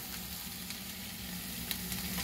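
Bacon sizzles and crackles in a pan, a short, steady frying hiss with small pops, close and fairly quiet, with no voices.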